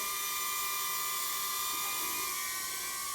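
The propellers of a Loolinn U61 toy drone spin in flight, making a steady high-pitched whine with a constant tonal buzz, close and unbroken.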